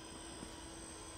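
A scale flying model of the XC-142 VTOL aircraft buzzes steadily overhead in a short burst of continuous propeller drone, moderately loud and without speech.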